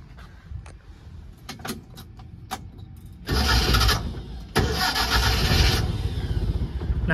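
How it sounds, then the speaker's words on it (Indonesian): An antique Fiat 1100 E cranks and fires on the first try, settling into a smooth, steady idle close by after a few clicks and jangles of keys beforehand. "Nah, langsung saya hidupkan untuk suara mesinnya."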